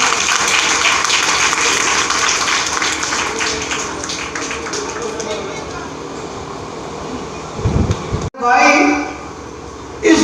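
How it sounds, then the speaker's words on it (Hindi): Loud, dense audience applause fills a hall at a talent and education award ceremony honouring NGOs and students, sustained for about eight seconds before breaking off abruptly. "एक बार ओरा ज्वेलर्स के लिए जोरदार तालियों से स्वागत करें"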